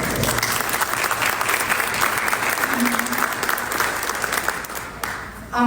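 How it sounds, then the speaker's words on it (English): Audience applause at the official opening of the Second Dominican Week in Jamaica, a steady full round of clapping lasting several seconds and easing toward the end. "A round of applause for her."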